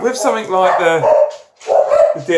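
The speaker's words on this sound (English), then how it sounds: "sorry about the dogs" Several dogs barking loudly and repeatedly close by, with yips mixed in and someone talking under the barks.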